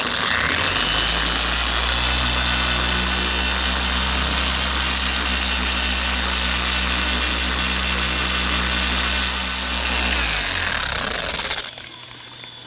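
A random orbit polisher set to speed 2 spreads finishing polish on a BMW 1M, droning loud and steady for about ten seconds with a constant high whine before spinning down and stopping.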